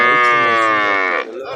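At a livestock market where bulls and cows are sold, a cow gives one long, loud, close moo that holds steady and then breaks off near the end, with faint background noise after.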